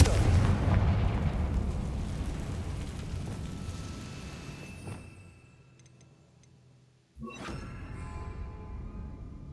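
Confringo spell blasts in Hogwarts Legacy: a heavy, rumbling explosion that slowly fades into quiet, then a sudden sharp second blast rings out.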